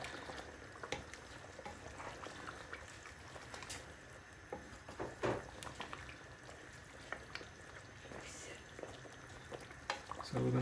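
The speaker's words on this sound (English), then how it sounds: "So we're going to cook this and let the sauce reduce down to a nice thickness." Beef bhuna gosht curry simmers in a pot with a soft bubbling sizzle while a spoon scrapes and stirs in irregular, quiet strokes, fairly close but low in level.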